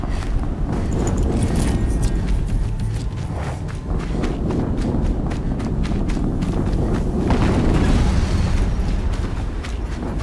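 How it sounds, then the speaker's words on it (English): Continuous loud rumbling explosions and debris in the video game Horizon Zero Dawn, a dense, sustained roar with rapid crackling impacts throughout and a swell near the end. "Another explosion."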